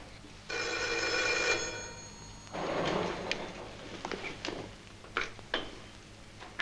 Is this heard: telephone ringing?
yes